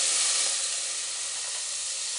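Butter dropped into a hot popcorn pot bursts into a bright, loud hiss that settles into a steady sizzle, close up with no other sounds.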